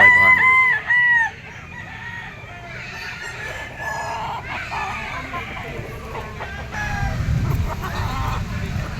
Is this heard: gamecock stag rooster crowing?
yes